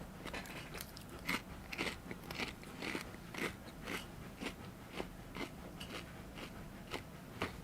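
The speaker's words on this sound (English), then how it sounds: "Most of the stream is now just crunching noises." Close, crisp crunching of someone chewing crunchy food repeats in a fairly regular rhythm of bites roughly every half second over a quiet low hum, with no talking.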